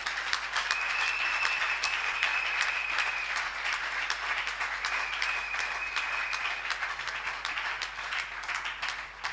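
A congregation applauding loudly for Jesus Christ at a church service, dense continuous clapping with faint cheers that holds steady throughout.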